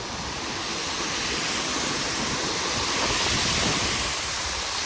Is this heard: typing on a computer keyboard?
no